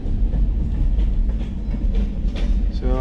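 Railroad cars being switched on the main line and two sidings at a historic train station, giving a loud continuous low rumble and rolling rattle with a brief squeal near the end, heard up close.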